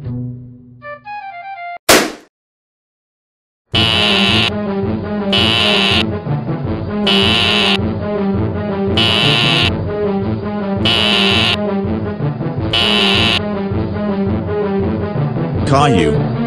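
A fire alarm in a GoAnimate cartoon blares loudly and continuously for over ten seconds with a regular pulsing pattern, after a brief musical jingle and a sharp whoosh.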